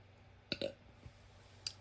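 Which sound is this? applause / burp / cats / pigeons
burp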